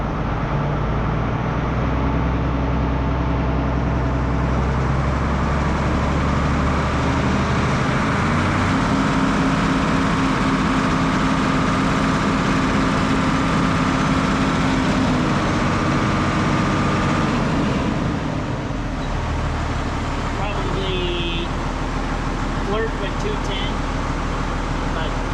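A tractor engine with a PTO drive running at a steady, loud, low drone that rises slightly when revved, with people talking over it.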